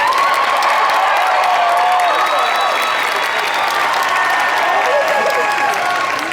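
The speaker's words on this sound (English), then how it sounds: "Let's give her a round of applause." A large audience at a campaign rally for the First Lady in Nevada applauds and cheers loudly and continuously, with whoops and shouts over dense clapping throughout.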